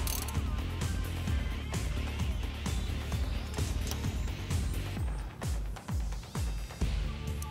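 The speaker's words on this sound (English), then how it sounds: "tightening the rocker nut to zero lash" A ratchet tightens the rocker nuts on the engine of a 1973 Buick Century restomod, a run of close, quick clicking strokes repeating steadily with brief pauses between pulls.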